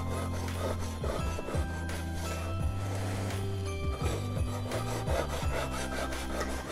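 A cake leveler wire saws through a gingerbread cake layer in repeated back-and-forth strokes, a close, rhythmic rasping scrape with no one talking.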